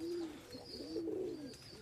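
Tippler pigeons coo softly and steadily in a low, rolling, continuous murmur, close by, with no voices.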